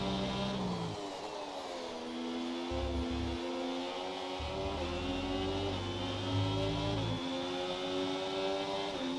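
Formula 1 race car engine in F1 24, running hot, revving and shifting through gears in a steady, loud whine with rising and falling pitch, continuous throughout without talk.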